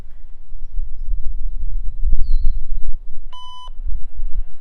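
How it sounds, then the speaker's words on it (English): A CN main line railroad defect detector sounds a short electronic tone sequence over a low rumble, a clean pitched beep with harmonics, after a couple of faint knocks. "Defect detector time."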